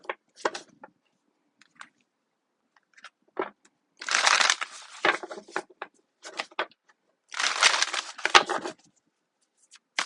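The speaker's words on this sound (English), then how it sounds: "One more shuffle." Crisp riffling bursts of shuffled cards, two longer flurries among short taps and snaps, close up and otherwise quiet.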